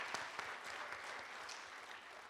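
A crowd at a California Senate candidate forum gives a round of applause for Congresswoman Judy Chu, a steady, fairly faint patter of many hands clapping that holds evenly throughout.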